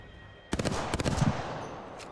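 Gunfire in the Apex Legends video game: a quick burst of rapid automatic shots followed by a second volley, crisp and fairly close, with echo trailing off afterward.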